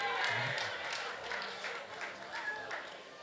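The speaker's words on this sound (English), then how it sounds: "A lot of excitement in the crowd." At the Men's EHF EURO handball final tournament draw, a crowd applauds steadily, a soft wash of clapping heard at a distance beneath a voice speaking over it.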